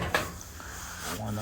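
The front door of a Maytag Bravos XL electric dryer is fitted into place, giving a short hollow clunk near the start followed by light handling noise.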